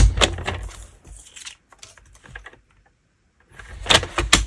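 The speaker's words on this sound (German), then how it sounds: "ich schneide mir hier jetzt einfach von der Folie ein Stück 5x5 zurecht" Plastic film cut by hand into a small 5x5 square for a seed-packet window, giving crisp rustling and snipping bursts at the start and end with a quiet gap in between.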